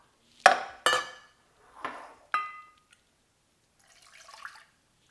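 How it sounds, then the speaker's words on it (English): Pieces of lean chicken going into a pot: four sharp clanks and thuds in quick succession, then a brief soft rustle before silence. "And then we'll add this into a pot."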